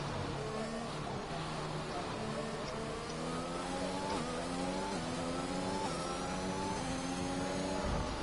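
Several racing cars at Zandvoort in a sim racing game roar in a close pack, engines revving steadily through gear changes, loud and continuous for the whole stretch.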